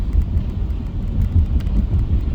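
A car accelerating from inside the cabin while driving through a high school zone, a steady low engine and road rumble that swells slightly, with no talk over it.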